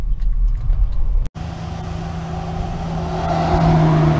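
A 1973 Lincoln Continental Mark IV engine idles steadily, nearby and fairly loud, after a brief dropout at the start, with a low hum and a gradual slight rise in intensity.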